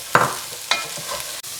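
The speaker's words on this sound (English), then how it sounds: "add the pepper and the courgette. Fry until the vegetables are soft" Sliced pepper and courgette go into a pan with softened onions and are stirred, giving a soft sizzle with a couple of scraping stirs, close and fairly quiet, with no talking.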